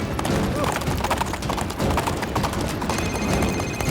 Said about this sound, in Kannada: ಬಿರುಗಾಳಿ ಒಂದು ಕಾಡು ಕುದುರೆ